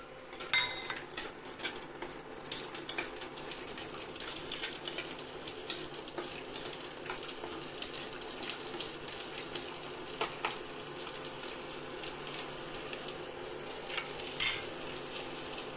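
Thirty to thirty-five garlic cloves frying in a pan over low heat give a steady soft sizzle throughout, with occasional utensil clinks and stirring scrapes close by and no voices.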